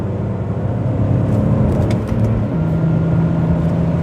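BMW 330Ci Clubsport engine pulling uphill in fourth gear under light throttle, a steady, smooth drone heard from inside the car with a gently rising pitch and constant road noise.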